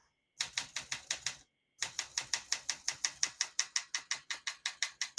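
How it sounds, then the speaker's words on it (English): A typewriter's new 3D-printed platen turns with a fast, even ratcheting run of clicks, pauses briefly, then resumes with a longer string of crisp clicks close by. "Sounds like a brand new platen."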